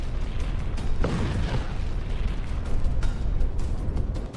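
A heavy blast rumbles through near Snake Island, with a sharp crack and booming low roar amid continuous noisy debris and rumble, loud and close.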